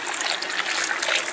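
Hot water pours steadily into a sea-salt brine for pickling onions, a continuous bright trickling stream with no talk over it.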